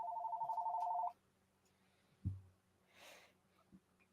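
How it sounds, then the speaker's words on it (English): An old-fashioned telephone rings in a steady electronic trill for about a second, then stops, leaving a quiet room with a soft thump and some breathing. "We can hear your old fogey phone."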